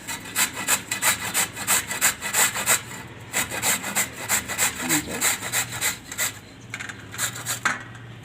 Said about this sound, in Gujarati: તો હવે આપણે આને ખમણી લેવું